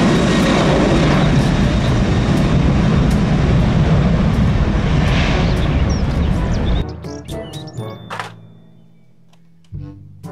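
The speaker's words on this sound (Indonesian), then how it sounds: "Pesawat terbang." A steady, loud roar of an airplane flying overhead fills most of the clip, then cuts off abruptly into quiet clicks and a faint thump.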